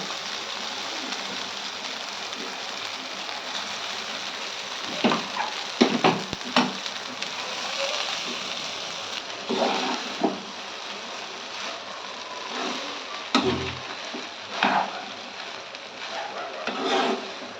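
Cooked rice being stirred into a tomato mixture in a pan for tomato pulao, with a steady soft sizzle and intermittent scraping stirs throughout, no talking.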